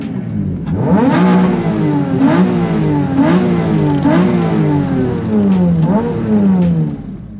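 A custom-built Toyota MR2 fitted with a 3.5 liter V6 engine revs hard several times in a row, its pitch rising and dropping in repeated loud, close sweeps with no one talking.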